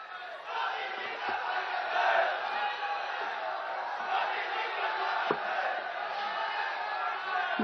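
A large outdoor crowd at a prime minister's canal project inauguration in Balrampur breaks into applause and cheering, a steady dense roar of clapping and voices that holds at an even level throughout.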